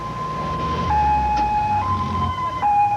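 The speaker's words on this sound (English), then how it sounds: "And so the ambulances make their deliveries" A two-tone emergency siren from an ambulance on the street, alternating steadily between high and low pitches, loud and close over a rumbling traffic background.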